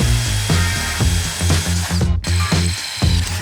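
A power drill bores a hole while mounting a fixture in a small workshop, and the bit snaps during the job. The motor whirs loudly and steadily in rhythmic, pulsing bursts, with a brief break partway through.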